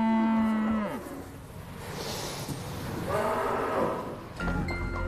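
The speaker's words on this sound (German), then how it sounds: "Ein Kollege hat die Kühe Lena und Sabine gekauft, die letzten 2 Milchkühe von einst 35" Dairy cows on a farm give long, loud moos, one after another with short gaps between them, and faint background sounds fill the pauses.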